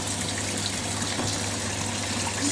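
Water rushes steadily into a Hoover A3060 Electronic 1100 washing machine with a constant loud gushing flow and a low mechanical hum beneath it.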